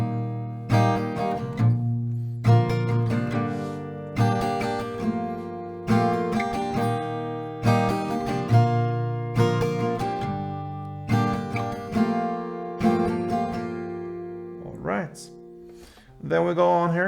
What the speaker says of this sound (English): You're gonna play 1 strumming round for each chord, and it will sound like this.